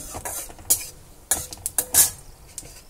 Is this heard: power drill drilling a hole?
no